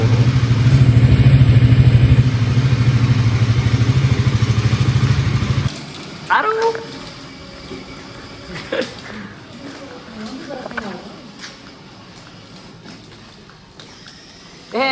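A motorbike engine runs at a steady idle, loud and close, then cuts off, leaving quieter handling noises, clicks and someone talking at home.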